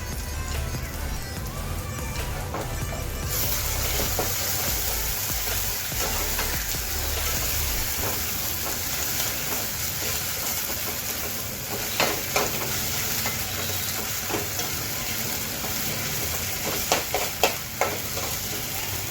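Ginger, garlic and green chili paste frying with onion in a pan for a Konkani sprouted masoor usal, a dense, continuous close sizzle running throughout with faint stirring scrapes and no talking.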